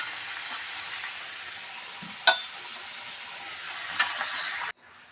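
Saffron-coated potatoes fry in oil in a kadai, giving a soft continuous sizzle with a couple of sharp clinks or stirs partway through, ending abruptly in near silence.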